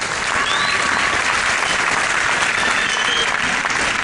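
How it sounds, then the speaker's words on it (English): Crowd at a World of Sport wrestling show applauding two young wrestlers, dense sustained clapping, loud and steady for the whole stretch. "So give them another big round of applause."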